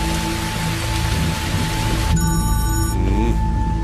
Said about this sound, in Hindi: बारिश भी रुक नहीं रही है